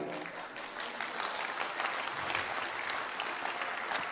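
A church congregation applauding during a worship service, a sustained wash of clapping from many hands at moderate distance, steady for several seconds.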